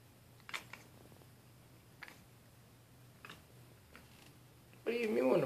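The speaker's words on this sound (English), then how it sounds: "What are you mewing about?" A cat gives a few soft, brief mews spaced a second or so apart, ending in a louder, drawn-out meow.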